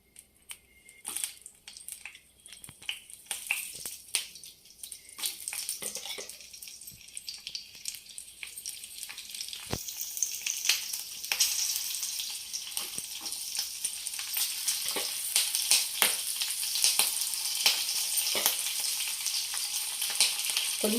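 Green chillies frying in oil in a pan for a bottle gourd curd chutney, a steady sizzle that grows louder and denser, with occasional clinks and stirring and no talk.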